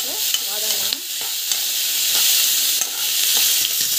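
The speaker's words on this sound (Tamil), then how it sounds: "டமாட்டோ ஆட் பண்ணிக்கலாம். ஸோ நல்லா வந்து வதங்கணும்." Tomato sautéing in a pan for a mixed greens chutney, a loud steady sizzle with a few scraping stirs and taps of the spatula near the start, no speech.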